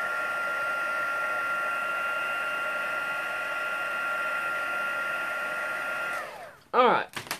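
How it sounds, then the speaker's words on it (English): Heat embossing tool blowing hot air during a craft colour-blocking session, a steady loud whirring hiss that holds for several seconds and then winds down, followed by brief clatter and handling noise. "That's enough heat embossing."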